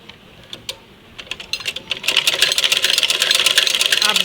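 A sewing machine stitches center lace onto a strip of fabric, starting with a few separate clicks and then settling into a fast, steady whir of needle strikes at close range.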